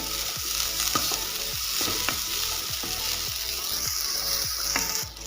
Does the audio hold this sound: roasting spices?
yes